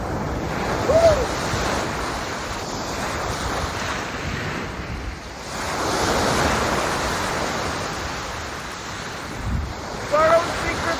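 Surf washing onto Barrow Secret Beach, a steady broad roar of waves with gusts of wind buffeting the microphone and swelling midway through.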